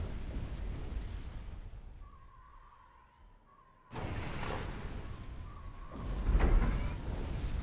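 Artillery bombardment in Supreme Commander lands as heavy rumbling explosions that fade into a quieter lull, then return in two loud booming surges, the last one the strongest.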